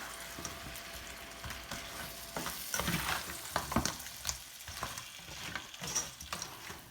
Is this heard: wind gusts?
no